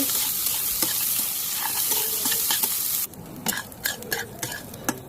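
Boiled pasta is fried Iranian style with magic masala. A dense sizzle comes first, then drops away to intermittent scraping and stirring strokes in the pan.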